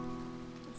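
Rain falls in the video game To the Moon, a brief, steady patter with soft musical tones running beneath it.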